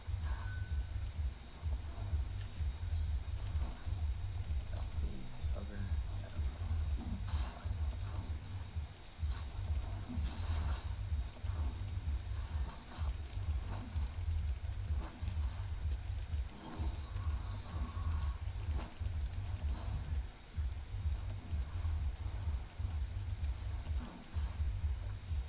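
Computer keyboard keys clicked steadily during play of The Binding of Isaac or DotA 2, a dense run of fast, light taps over a low steady hum, continuous throughout with no talk.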